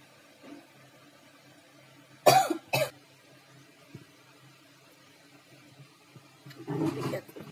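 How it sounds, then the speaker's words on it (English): Two sharp coughs come close together, loud and near, followed later by a rougher throat-clearing cough in an otherwise quiet room. "I was like constantly coughing because of dried throat"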